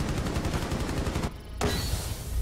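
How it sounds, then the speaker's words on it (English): Rapid automatic gunfire in the video game Rainbow Six Siege, a loud continuous burst that cuts out briefly and then resumes. "I shot him like 50 million times."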